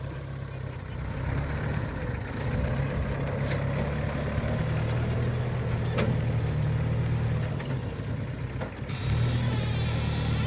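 A tractor engine runs steadily at a low idle-like throb while hitched to an old imported Massey Ferguson baler working a field. The sound stays loud and continuous throughout, with no talk.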